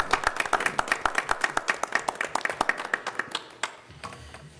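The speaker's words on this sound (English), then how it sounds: "I do think the Edison Police deserve a round of applause." Audience at a town council meeting applauds the Edison Police, a dense burst of clapping for several seconds that thins out toward the end.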